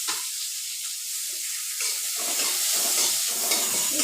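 Halved chopped onions fry in hot oil tempering with bay leaf, a close steady sizzle and hiss with occasional scraping stirs, no voices.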